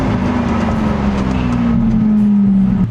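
A Lamborghini Aventador engine drones loud and close while driving, holding a strong steady tone that slowly falls in pitch as the car cruises, with road and wind noise underneath and no talk.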